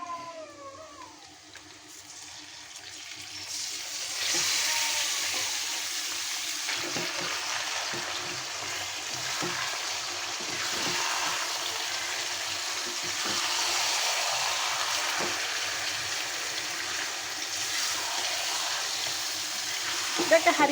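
Chicken pieces hit lightly browned onions in hot oil for handi kebab, a sizzle rising after a quieter start and holding steady with occasional stirring knocks, a faint voice briefly heard early on.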